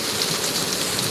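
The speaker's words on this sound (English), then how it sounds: "But yeah, the rain is actually quite warm." Warm rain pours steadily during a severe thunderstorm, a dense, loud, continuous hiss of drops hitting surfaces close by, with no talk.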